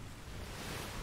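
A steady wash of ocean waves and wind as a ship sails at sea in the video game ATLAS, a brief, even, continuous rush with no talking.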